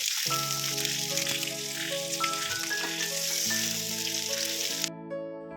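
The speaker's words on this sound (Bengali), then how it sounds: "প্রথমে পটলটা বসিয়ে দিয়েছি" Slices of pointed gourd (potol) fry in a pan for a Janmashtami meal, a continuous loud sizzle over several steady tonal hums that cuts out sharply near the end.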